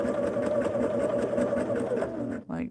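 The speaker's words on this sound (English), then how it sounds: "I will run a basting stitch" A sewing machine runs a steady basting stitch, its motor humming with a fast, even needle rhythm for a couple of seconds before stopping abruptly.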